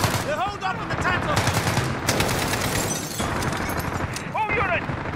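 Automatic weapons fire in a Modern Warfare campaign mission set at Piccadilly, loud sustained bursts that rattle close by throughout, with shouted voices and radio chatter mixed in.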